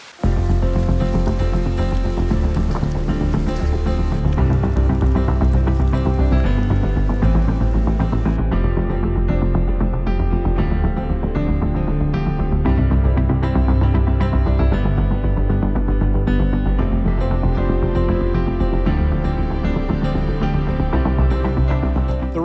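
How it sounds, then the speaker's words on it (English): Cold rain falling steadily on a remote Pennsylvania backpacking trail, a continuous loud wash of drops on surfaces with no pauses and no talking. "A lot of rain, but we're hoping it's just like a passing shower"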